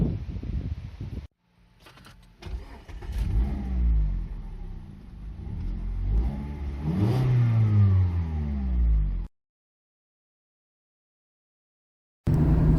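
A 2018 Mazda MX-5 RF 1.5 sports car engine revs and accelerates hard, its note rising through the gears, loud and close, then cuts out into silence before roaring back briefly at the end.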